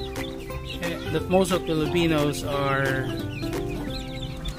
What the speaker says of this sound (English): So these chickens are called native chickens.